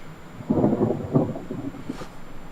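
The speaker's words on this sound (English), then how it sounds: "Is that thunder we heard? Yes, it is." Distant thunder rumbles low and soft in two swelling bursts, followed by a fainter crackle.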